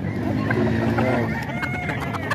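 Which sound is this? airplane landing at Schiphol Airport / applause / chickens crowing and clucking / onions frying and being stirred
chickens crowing and clucking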